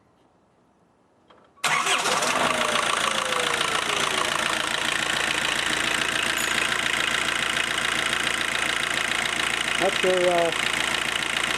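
A 1996 Vauxhall Vectra 1.7 turbo diesel, fresh from a timing belt replacement, cranks after a quiet start and catches, then settles into a steady, close diesel idle while someone briefly speaks over it.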